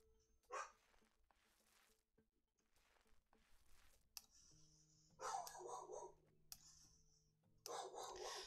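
A dog barks outside in the video game House Flipper, with a few sharp, brief barks separated by pauses, mixed with game scraping and rasping sounds and a low tonal hum.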